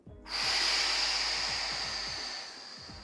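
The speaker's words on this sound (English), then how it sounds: "And now firm exhale." A single firm breath is pushed out, a strong airy hiss that starts suddenly and holds steady before easing off, over a faint low rumble with no voice.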